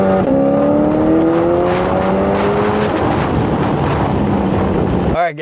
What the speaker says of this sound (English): This thing keeps pulling all the way through that RPM range.